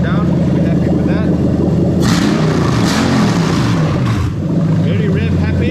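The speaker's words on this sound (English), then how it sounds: "we're going to turn the key and fire up" A 2004-2008 Toyota Crown Majesta with a 3UZ-FE VVT-i V8 engine idling and revving, loud and close, with the pitch rising and falling through several throttle blips.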